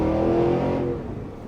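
The 682 hp V8 of a 2023 Cadillac Escalade-V revs in a loud, close, sustained growl that eases and fades slightly toward the end, with no talking.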